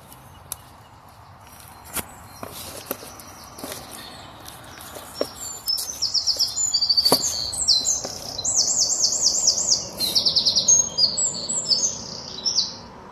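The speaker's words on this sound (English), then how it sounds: "The birds chirping." Birds chirp and tweet in quick high bursts in woodland while foraging wild garlic in Musselburgh, sparse at first then busier and louder toward the end, with a few soft footstep-like knocks underneath.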